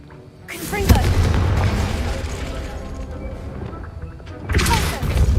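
Confringo blasting spell in Hogwarts Legacy erupting into a loud, booming explosion with crackling debris, followed by a second burst near the end, close and powerful over rumbling game ambience.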